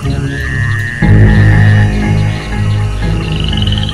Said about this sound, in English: The sound of frogs fills the night.